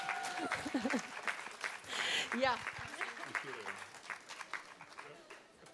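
Loud applause from a crowd at a school ceremony as Valmiera Viesturs Secondary School is called forward, a broad wash of clapping with people talking over it, tapering off toward the end.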